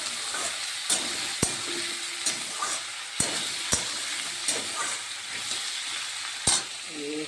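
Muri ghonto cooking in a pan with dried red chilli, bay leaf and cumin tempering, a steady soft sizzle broken by sharp clinks and scrapes of a utensil stirring, with faint voices in the background.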